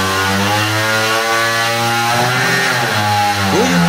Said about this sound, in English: So here is an example of a propeller without the O-ring.